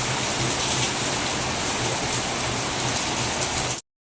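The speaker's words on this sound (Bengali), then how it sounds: "প্রচুর বৃষ্টি হচ্ছে দেখো" Heavy rain falls hard and close by in a constant, even downpour with no talking, then cuts off abruptly at the end.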